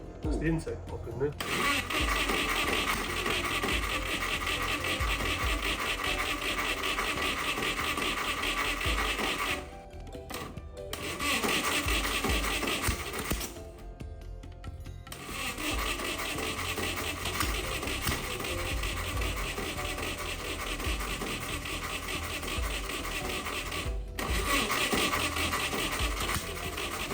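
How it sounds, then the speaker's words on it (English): A 300-horsepower race engine in an abandoned 1980s supercar, badly over-advanced, coughs and pops through the intake during repeated start attempts, loud and ragged, cut by short pauses between tries. "That's the intake pop in there."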